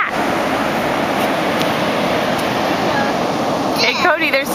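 Ocean surf washes up on a beach as a steady loud rushing wash with some wind, while people talk over it near the end.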